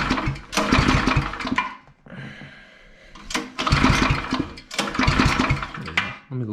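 Small engine with a temperamental choke cranking and sputtering in repeated loud bursts, sounding like a pull-start mower, with a quieter pause between attempts.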